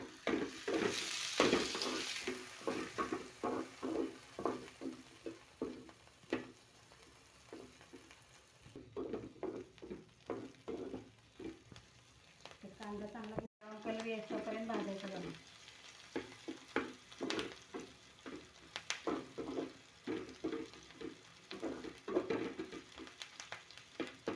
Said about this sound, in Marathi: लसूण पण याच्यामध्ये घालूया आपण आणि चांगलं परतून घेऊया